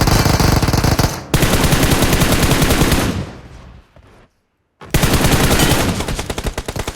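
Rapid automatic gunfire from PUBG Mobile rattles loud and close in sustained bursts, dropping into a near-silent gap before another dense volley resumes.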